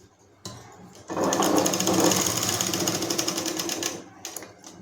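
Sewing machine stitching a second line of stitches over an earlier seam along a folded fabric edge, a steady rapid mechanical whirr running for about three seconds after a brief start, close and loud.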